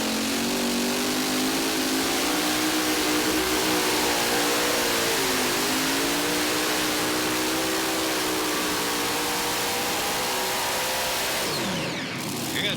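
A brand-new Unlimited class pulling tractor at a Wisconsin truck and tractor pull roars loudly and continuously, its engine pitch wavering and dipping mid-run before cutting off abruptly near the end.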